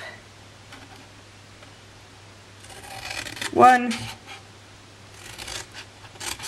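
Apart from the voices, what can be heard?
scissors cutting paper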